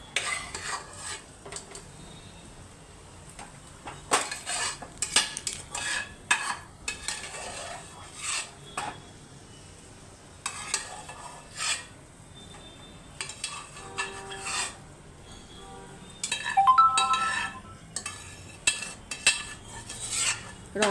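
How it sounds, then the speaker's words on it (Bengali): Boiled mashed vegetables for pav bhaji being stirred into spice masala in a kadai, with repeated scraping and clinking of a spatula against the metal pan and a faint sizzle between strokes, fairly quiet. "এখন আমি সমস্ত সেদ্ধ সবজিগুলো কড়াইয়ের মধ্যে দিয়ে দিচ্ছি মশলাটার সঙ্গে।"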